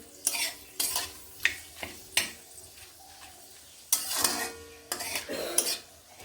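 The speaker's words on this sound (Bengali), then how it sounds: "দুটো তেজপাতা একটি শুকনো লঙ্কা ও একটুখানি পাঁচ ফোড়ন দিয়ে নিচ্ছি এগুলোকে কয়েক সেকেন্ড এইভাবে নেড়ে নিচ্ছি" Bay leaves, dried chilli and panch phoron being stirred in hot oil while cooking a tangra catfish dish: repeated sharp spatula scrapes against the pan, about ten strokes, over a steady sizzle.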